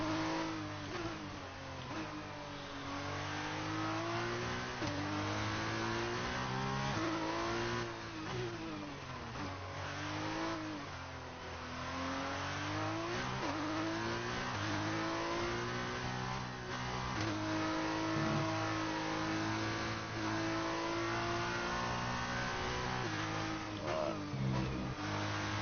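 Formula race car engine at the USA Grand Prix, high-pitched and steady, rising and falling through repeated upshifts and revs as the car accelerates along a lap, loud and continuous with no talk.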